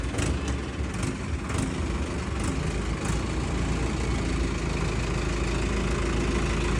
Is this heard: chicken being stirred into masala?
no